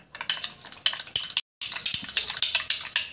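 Ingredients for a cracked-heel home remedy, including turmeric, being mixed in a bowl: repeated close scraping and clinking strokes of a spoon against the bowl in a steady rhythm, with one brief pause.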